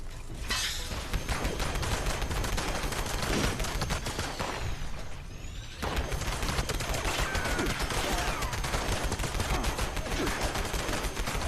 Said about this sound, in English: as long as I'm shooting them, they can't really shoot me